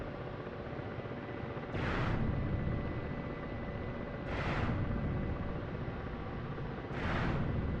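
Three bursts of Ka-50 helicopter rockets fired at infantry in the DCS flight sim, each a short rushing whoosh spaced a few seconds apart over a constant loud rotor and engine drone.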